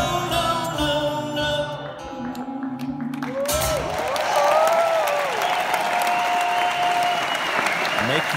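Crowd applause at an awards ceremony, steady clapping that runs under music with sustained tones and a voice, fairly close and loud throughout.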